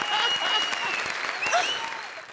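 Studio audience at a comedy show bursts into loud, dense applause that carries on steadily through the short moment with no pause.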